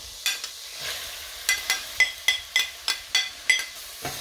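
Chopped onion tossed into a pan of browned lamb for a braised lamb and potato stew, giving a soft sizzle broken by a steady run of sharp spatula scrapes and clinks, about ten close strokes with no talking.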